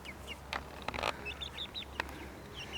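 Chickens cluck and chirp softly in short scattered calls, with a few brief clacks and knocks nearby against a low steady background hum.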